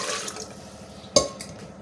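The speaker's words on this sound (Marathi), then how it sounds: "तर याच्यात पाणी टाकून घेते" Water is poured into dal in a cooking pot, a soft running splash close by, with a brief sharp clink of metal partway through.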